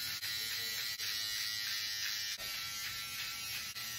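Gillette Styler electric trimmer with its shortest guard buzzes steadily while shaving a beard, a close, continuous hum with a few brief dips as the blade moves across the face, with no talking.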